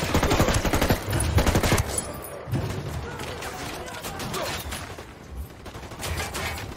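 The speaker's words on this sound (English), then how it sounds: "firing on the cartel" Bursts of automatic gunfire aimed at cartel soldiers on an oil rig in Ghost Recon Wildlands, rapid loud volleys up front that thin out into scattered shots and background battle noise.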